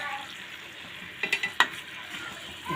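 Dried chillies fry in oil with a low, steady sizzle, close by, and a short run of light metallic clinks from stirring partway through. No one speaks.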